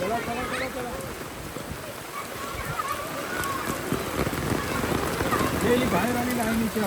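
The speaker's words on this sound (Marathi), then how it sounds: "पाऊस खूप आहे मला पूर्ण भिजवले पावसाने" Steady heavy rain hisses and patters on surfaces in Saygaon village, with a person talking under the downpour.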